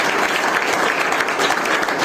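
Church congregation at a Resurrection Day Sunday service applauding loudly for Jesus, a dense, steady burst of clapping from many hands that fills the whole moment without pause.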